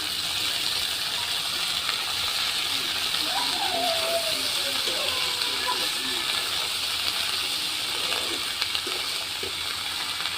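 Black cumin seeds and onion paste sizzle in a hot pan, a steady close hiss with faint crackles running throughout.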